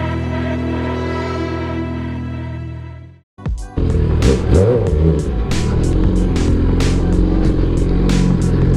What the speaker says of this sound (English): we are at Imkay's motorcycle meet